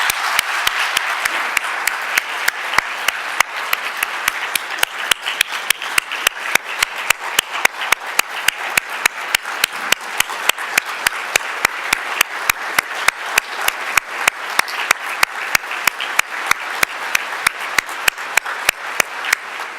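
A large audience at an evening university law school awards ceremony applauds its honorees, a dense, steady wash of clapping that holds at full strength for about twenty seconds with no talk over it.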